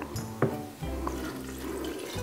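Vinegar pours into a jar of cherry pits, a steady liquid splashing and gurgling that runs close up for about two seconds, with no talk.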